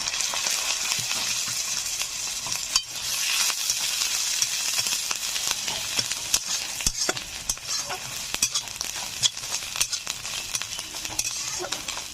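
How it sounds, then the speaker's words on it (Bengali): Fried prawns sizzle and crackle steadily in a pan with pumpkin, a dense continuous frying hiss with scattered pops and stirring clatters throughout, close and alone with no voices. "দিয়ে দিচ্ছি ভেজে রাখা চিংড়ি মাছ"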